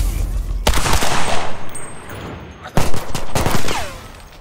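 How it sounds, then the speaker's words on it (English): Gunfire in the online video game CRSED F.O.A.D. on Xbox: sharp bursts of shots crack out in two loud clusters, near and punchy, separated by quieter ambient game noise. "He's shooting Josh now."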